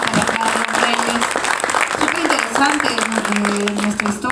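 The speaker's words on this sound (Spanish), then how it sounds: "Por favor, un fuerte aplauso para Carlos Reyes." An audience claps loudly and steadily after a lecture on the dispute over Cajamarca, with voices and a few calls mixed into the applause.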